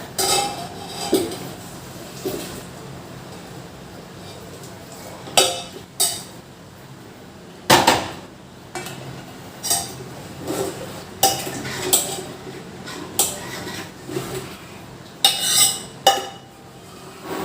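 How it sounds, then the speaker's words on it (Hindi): A spoon stirs milk into kheer in a metal pot, with repeated sharp scraping clinks against the pot, loud and irregular, separated by quieter gaps. "अब दूध डाल देती हूँ फ्रीज इसमें खीर में, और इसे चलाती रहूँगी साथ साथ।"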